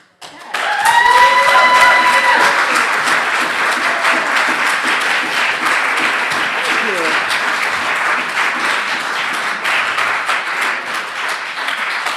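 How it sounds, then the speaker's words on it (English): A crowd at an annual church meeting breaks into sustained applause and keeps it at a steady level, with a few cheers and a brief tonal sound near the start. "I'm assuming the applause is for those awesome window sketches"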